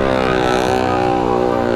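A motorbike engine runs loud and close in a steady, heavy drone with no clear rise or fall in pitch, while voices are faintly present beneath it.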